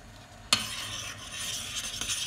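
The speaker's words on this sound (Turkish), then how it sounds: "Ve bir su bardağı un ilave edip iyice karıştıracağım." Flour stirred into boiling butter, water and sugar in a pot: a sudden clack of utensil against the pan, then a soft, steady sizzling, faint and close.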